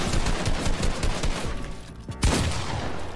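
Shotgun blasts and rapid building clatter fill a video game box fight, loud and dense, with a sharp burst just after the midpoint standing out from the busy noise.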